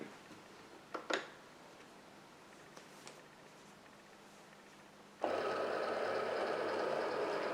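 A Cricut Explore Air 2 cutting machine scores cardstock with a scoring stylus: two sharp clicks and taps in a quiet room, then the motor whirs up loudly and runs steadily to the end.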